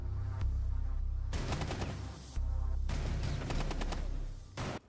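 Heavy video-game gunfire in loud sustained bursts with brief gaps, a final short volley near the end, no speech over it.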